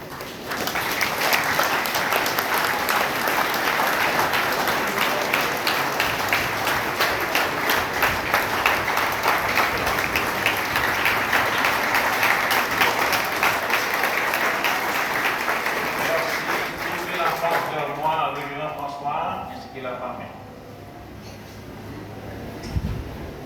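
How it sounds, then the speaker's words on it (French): A church congregation at a pastor's installation service at a MEBSH church in Camp-Perrin, Haiti, applauds loudly and steadily for about seventeen seconds, then the clapping thins out into scattered claps and quieter room noise. "Si vous êtes d'accord, vous levez et applaudir."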